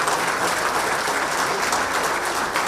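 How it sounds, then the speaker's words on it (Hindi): Loud, dense applause from a large crowd welcoming guests and Jharkhand's chief minister at a state administrative service association event, steady sustained clapping throughout with no clear voices. "जोरदार तालियों से का स्वागत किया जाए"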